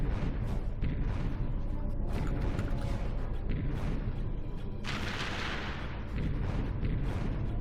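Turret cannon fire during a turret section of the PS2 game Ratchet & Clank: continuous loud, dense booming blasts over the whole stretch, with a brighter, harsher burst of fire about two-thirds of the way through.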